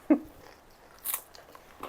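Crunchy Japanese snack bitten and chewed close to the mic, a sharp initial crunch followed by a softer crunching bite a second later, otherwise quiet.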